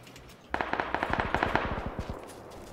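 A rapid burst of suppressed automatic gunfire in PlayerUnknown's Battlegrounds, roughly twenty muffled, evenly spaced cracks over two seconds, close and loud and fading slightly toward the end, with no talk.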